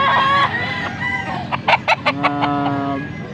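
A rooster crows loudly and close at a Sunday chicken auction, one full drawn-out call with a stuttering middle, among clucking fowl and a steady background murmur.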